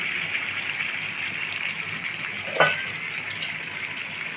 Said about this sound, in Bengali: এই পেস্টটা আমি এর মধ্যে ঢেলে দিচ্ছি